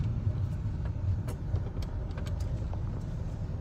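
A Renault Megane GT car drives along, its steady engine and road rumble constant and close throughout, with no talk over it.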